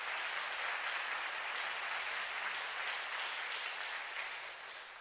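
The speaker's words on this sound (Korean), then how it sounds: "다시 한번 큰 박수 부탁드립니다." Concert audience at a Valentine's Day musical and opera show applauding warmly after a soprano's song, a dense, even wash of clapping that tapers off slightly at the end.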